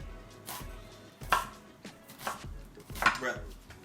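Onions being chopped with a knife on a cutting board in a home kitchen, a few sharp, uneven knocks spaced about half a second apart, close and clear with no talk.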